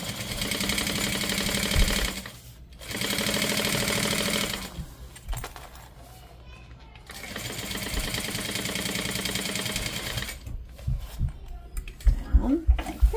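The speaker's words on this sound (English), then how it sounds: "And sew this together." A sewing machine stitches fabric in long steady runs of rapid mechanical whirring, pausing briefly between seams, with soft handling clicks and thumps near the end.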